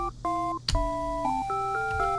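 A telephone in a video game gives a short electronic ringtone, a bright melodic run of beeping tones with a soft click partway through, heard on its own.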